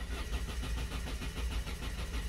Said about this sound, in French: Je vais essayer de faire un coup de démarreur pour voir.